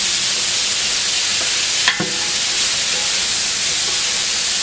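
Tomatoes cook in a pan for homemade ketchup, giving a steady broad sizzling hiss with a brief clatter midway, no talk.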